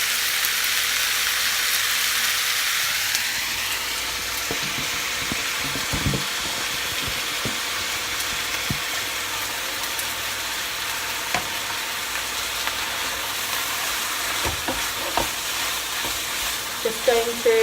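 Beef mince sizzles steadily in a pan, a loud constant frying hiss with scattered scrapes and knocks as it is stirred, close up with no voices.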